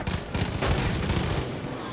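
Sustained gunfire in the video game Far Cry 5, a dense run of close, loud shots packed together for the whole stretch, with a player's voice breaking in over the shooting.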